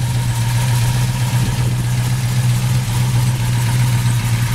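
A 1968 Camaro SS with a 396 V8, headers and a stall converter idles steadily nearby, a loud even low rumble with a deep throb and no talk over it.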